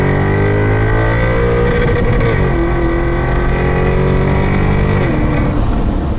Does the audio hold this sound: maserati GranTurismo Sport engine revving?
yes